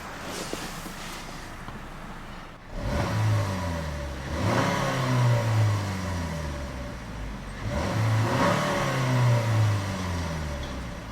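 A 2012 Buick Verano engine revs up twice from a low idle, each rising, growling burst of acceleration easing back down, heard close with no voices.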